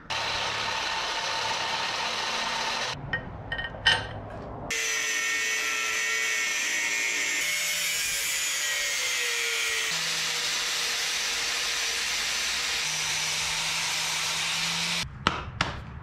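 A drill whines steadily at close range while a steel shock bracket is cut and ground, with short pauses and clicks where the tool stops and restarts.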